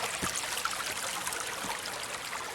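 Fresh water trickles through a forest stream in a logged-over woodland, a steady close babble and splash that runs on without a break and nothing else over it.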